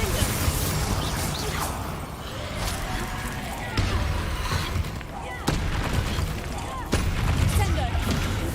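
Spell blasts from Confringo and Glacius casts in the video game Hogwarts Legacy, a string of booming impacts and bursts over steady game noise, with a voice speaking throughout.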